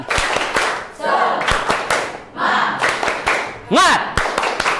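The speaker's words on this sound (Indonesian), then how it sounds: "Kita semangat dulu. Tepuk tangan." An Indonesian informatics class claps in quick rhythmic bursts, sharp close hand claps in patterned groups separated by brief pauses, with pupils' voices chanting between them.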